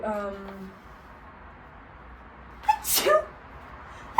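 A person sneezes once loudly and close after a short voiced sound, a sharp burst standing alone in a quiet room.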